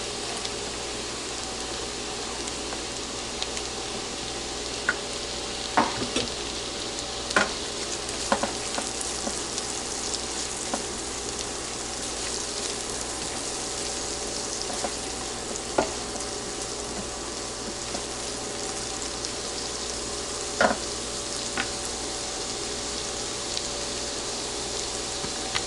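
Onion and garlic fry in a pan for Spanish rice, a steady close sizzle with scattered sharper pops and crackles running throughout, no voices.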